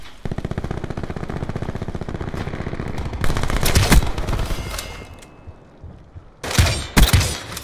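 Rapid automatic gunfire from Call of Duty Black Ops 4 gameplay: a steady, loud machine-gun burst, then heavier sustained volleys and a final loud burst, close and continuous.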